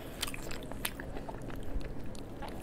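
Close, wet chewing and biting on beef knee tendon, steady squishy mastication filling the short stretch without any talking.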